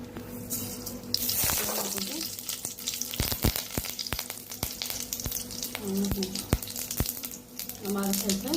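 Tempering seasoning in hot oil in a kadai for a mixed chutney: a steady, fairly soft sizzle and crackle with stirring and occasional sharp pops and clinks, no talking.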